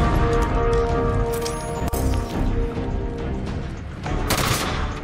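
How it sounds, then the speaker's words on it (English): Battle rifle gunfire in Halo 5: Guardians, a close, loud stream of rapid cracking shots with crashing impacts, running continuously with a brief dip midway and a burst of bright noise near the end. "Okay, that was the battle rifle"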